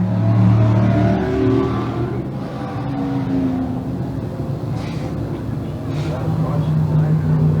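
Limited sportsman dirt track race cars revving around turns three and four at night: a rough engine drone swells loud up close, then eases into a steadier mid-distance roar, under continuous commentary.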